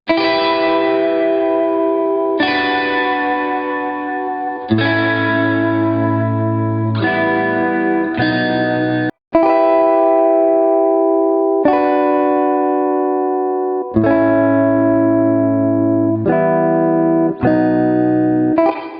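Plucked guitar notes ring out and decay in a steady sequence, some held with vibrato and a wavering pitch and others steady, with no voices present.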